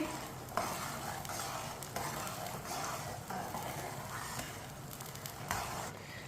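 Sugar mixture for mutanjan, a sweet rice dish, cooking in a pan with a steady soft sizzle and occasional stirring scrapes, no talking.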